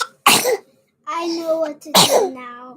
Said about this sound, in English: you just sneezed all over me